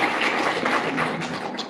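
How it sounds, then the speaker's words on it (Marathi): An audience at a Women's Day event claps in a dense, continuous burst of applause that holds steady throughout. "तुम्ही पण वाजा एकदा माझ्या नावाने टाळ्या."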